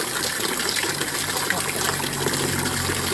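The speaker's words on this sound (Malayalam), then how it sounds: "ഇനി ഇതിങ്ങനെ കുറച്ചൊരു 2 മിനിറ്റ് കൂടി ചെയ്യുമ്പോൾ നമുക്ക് ഈ പൈപ്പ് ക്ലിയറായി വെള്ളം വരല് തുടങ്ങും" Muddy water gushes steadily from a pipe being flushed clear, a continuous close, loud rush with no break.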